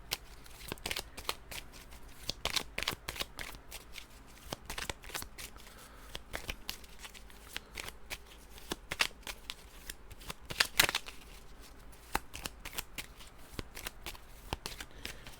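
Cards from a board game deck being shuffled at a table, a steady run of close, crisp riffling and slapping sounds over about fifteen seconds, fairly quiet and with no talk.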